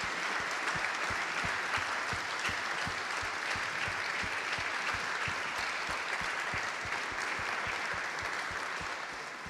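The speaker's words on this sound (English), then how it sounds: "if you would like to give another round of applause for the Music Academy in Bucharest" Sustained applause from a large crowd, dense clapping that stays loud and even throughout, fading slightly at the very end.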